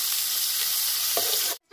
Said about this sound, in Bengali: দুখানা পেঁয়াজ ভালো করে কুচি কুচি করে নিয়েছি, এগুলো দিয়ে দেবো। দিয়ে এবার খুব একটু ভালো করে ভেজে নিতে হবে।